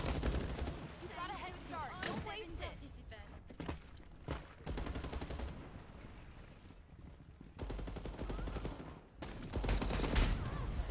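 Gunfire in the 5v5 tactical hero shooter FragPunk, with rapid bursts of shots and automatic fire coming in several loud clusters, and a voice talking between and over them.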